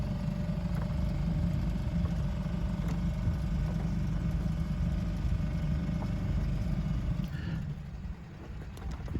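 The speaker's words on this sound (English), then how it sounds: "So the engine goes on and we have to motor the rest of the way." A sailing boat's motor runs steadily while cruising up the River Dart, a continuous low engine drone that stays close and loud throughout, dipping slightly near the end.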